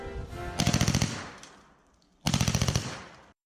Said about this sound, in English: Firing the gun makes the mech skid backwards in the opposite direction.